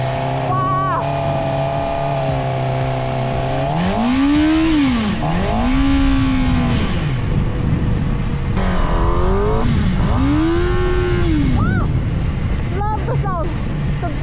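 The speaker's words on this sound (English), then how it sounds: "The beautiful sound of 4-cylinder engine." A four-cylinder motorcycle engine revs hard at the Beijing Motorcycle Show 2025, its pitch climbing and dropping in repeated sweeping arcs, loud and close, with a high whine over a rumbling base.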